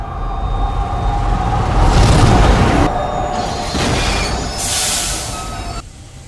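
A train rumbles into a station with a steady hum and bursts of metallic squealing from the wheels, loud and close, then the noise eases off.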